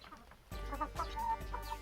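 A chicken clucking close by, a few short, rough calls in quick succession over a steady low background noise.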